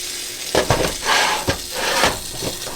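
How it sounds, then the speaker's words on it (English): Steady sizzling and hissing of water on a hot stove next to a skillet, with intermittent clinks and scrapes of utensils and pans over the continuous frying noise. "that's water I wasted on the stove. I was like, what is that sizzling?"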